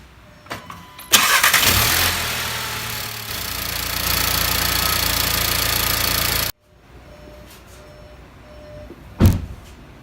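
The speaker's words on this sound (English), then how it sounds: "let's just start the car one more time and see." A Volkswagen Golf MK7 engine cranks and fires loudly, runs with a steady idle roar for several seconds, then cuts off abruptly, followed by quiet and a brief thump.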